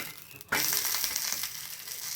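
A ragi adai, a millet-flour flatbread, sizzles and fries loudly on a hot pan. The steady crackle starts abruptly and continues without speech.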